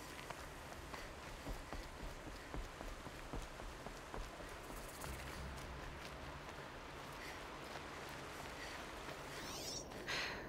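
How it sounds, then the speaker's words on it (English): Steady rain falls across the landscape of the video game Horizon Zero Dawn, a dense continuous patter on the ground with faint footsteps mixed in, and no voices. "Rain."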